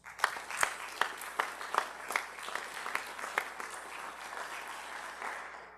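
Audience applauds at a police academy cadet class graduation, a crowd of hands clapping with a few sharp loud claps early on, then settling into a softer, even patter that tapers toward the end.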